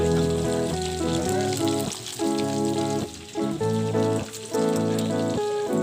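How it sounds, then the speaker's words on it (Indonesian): Food fries crisply in a hot pan of oil, a steady dense sizzle running throughout, overlaid by a loud tonal, music-like hum that pulses in short phrases. "Goreng garing."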